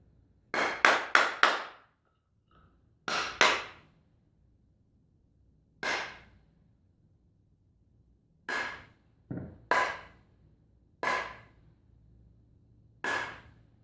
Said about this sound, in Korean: 망치질 한두 번 정도 그렇게 가지런하게 정렬할 수가 있으니까